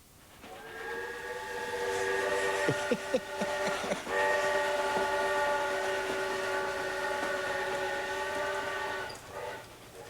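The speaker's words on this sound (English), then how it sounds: "They are large-scale trains, and this one is outfitted for Christmas." A large-scale Lionel model train decorated for Christmas runs with a long, steady whistle blast held for several seconds, with a few sharp clicks and clatters along the track.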